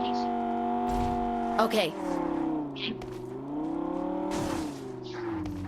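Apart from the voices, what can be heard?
vehicles racing in the open in video game BGMI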